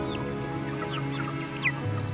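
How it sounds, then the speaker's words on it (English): A flock of seventy-odd farm chickens clucking, scattered overlapping clucks and short calls from several birds at close to middle distance over a low steady hum. "there are 70 something chickens here"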